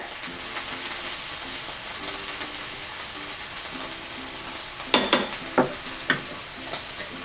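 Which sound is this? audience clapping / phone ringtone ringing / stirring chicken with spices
stirring chicken with spices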